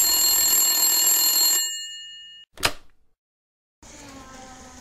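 A telephone bell rings loudly in a radio play, a sustained metallic ring that stops abruptly, followed by a short click and then a quiet hum.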